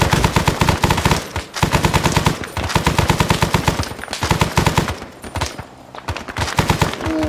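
Arma 3 gunfire: loud, rapid automatic bursts rattle in long strings, broken by short pauses, with a few sparser shots toward the end.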